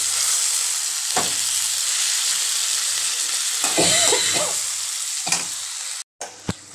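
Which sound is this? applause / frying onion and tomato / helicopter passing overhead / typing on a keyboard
frying onion and tomato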